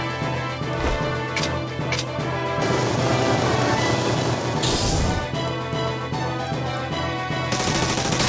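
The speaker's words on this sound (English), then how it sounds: "Blazing machine gun." Rapid, sustained machine-gun fire from a video game attack, loud and dense with bursts of crackling impacts running through the whole stretch over a constant background score.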